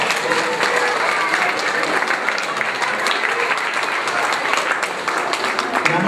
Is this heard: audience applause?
yes